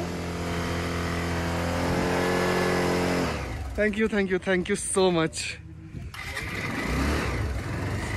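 A motorbike on a winter mountain bike trip near Zuluk on the Silk Route, just started after being warmed with hot water, idles with a steady throbbing hum up close, then someone speaks briefly over it before the engine noise resumes.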